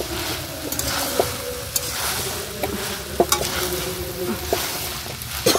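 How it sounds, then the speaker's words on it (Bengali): Potato, coconut and chickpeas frying and being stirred together in a pan for ghugni, a steady sizzle with scattered scraping clicks of the spoon throughout, close and moderately loud, no talking. "আর এদিকে তার মধ্যে আলু নারকেল সব একসাথে দিয়ে ভালো করে কষাবো"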